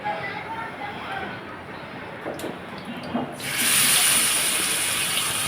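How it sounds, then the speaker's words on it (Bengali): Snakehead (shol) fish frying in hot oil in a pan, a steady low sizzle that swells into a louder, brighter crackling hiss partway through and holds to the end. "এখন আমি মাছটা তেলে ভেজে নিচ্ছি"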